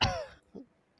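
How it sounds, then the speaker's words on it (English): A single short cough, close and fairly loud, then a faint murmur and a brief sound at the very end. "Followed by a cough."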